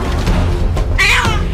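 A trapped baby kitten cries loudly in a single strained, rising meow that stands out over a steady, noisy background rumble.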